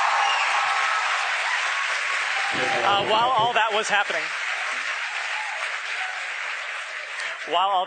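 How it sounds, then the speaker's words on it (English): A crowd at SpaceX headquarters in Hawthorne cheers and applauds steadily through a satellite launch, a continuous roar of clapping with someone talking over it. "The crowd's going nuts here at SpaceX headquarters in Hawthorne."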